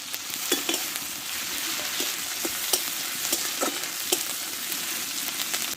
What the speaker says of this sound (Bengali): পেঁয়াজ বাটাটা দিয়ে ভালো করে ভেজে নিয়ে